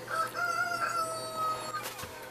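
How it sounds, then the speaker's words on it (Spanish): A rooster crows in the middle of the night at half past three, one drawn-out cock-a-doodle-doo at moderate distance with a clear, wavering tone, fading into a short quiet tail. "Porque hay un gallo cantando a las 3 y media de la mañana."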